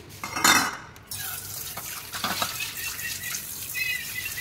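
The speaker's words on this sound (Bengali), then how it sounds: "এই যে বাটিটাকে এবার ধুতে নিয়ে এসেছি।" A bowl rinsed with plain water and no soap, with a close clatter of dish against basin at the start, then a steady splash and trickle of running water.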